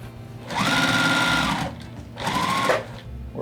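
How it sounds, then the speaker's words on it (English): A sewing machine runs in two steady bursts while sewing a scrap-fabric dog bed, its motor whirring and needle chattering rapidly, stopping briefly in between; close and fairly loud. "take it over to my sewing machine. So I'm gonna finish off the sewing here"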